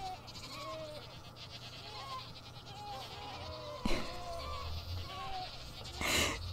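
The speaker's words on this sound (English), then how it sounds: "there's definitely screaming goats in there" Several goats in the video game WildCraft bleat repeatedly in short wavering cries over a steady low hum, with a sudden clunk midway and a burst of noise near the end.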